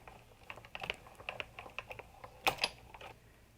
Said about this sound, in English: we simply roll this through the Big Shot